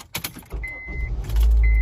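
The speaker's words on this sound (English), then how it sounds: "I turned on the car." A car engine cranks and catches near the end, its low rumble swelling into a steady idle after a few brief clicks and rustles.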